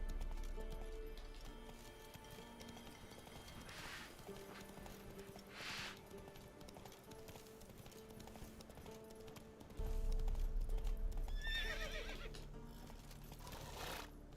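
Roach, a horse in The Witcher 3 (Next Gen), clip-clops along with hooves and a whinny breaking through, the in-game music playing beneath; a louder, denser stretch of hoofbeats arrives near the end.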